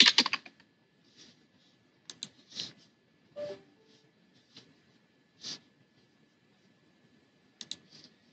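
A project name is typed on a computer keyboard as sparse, crisp keystrokes. Short bursts and single clicks are separated by quiet pauses.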